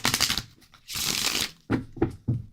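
Tarot cards being shuffled in several bursts, a long riffling rush followed by three short, sharp card slaps, close and fairly loud with no talk over them.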